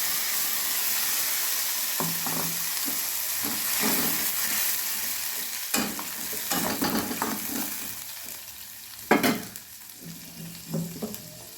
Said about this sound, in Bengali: ফোড়নটা ভাজা হয়ে এসছে, এবার মশলাটা দিয়ে দিলাম